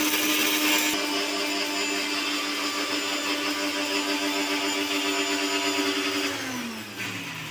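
A mixer grinder whirs loudly and steadily up close, powdering cardamom, nutmeg and sugar, then its motor pitch drops as it winds down near the end.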